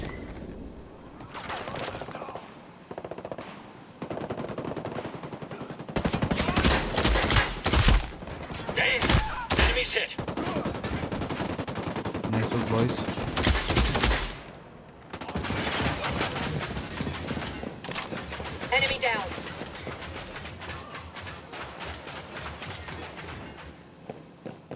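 Enemy gunfire in Tom Clancy's Ghost Recon crackles in dense bursts of automatic rifle shots, heavy near volleys mixed with lighter distant pops, swelling and fading over a long firefight.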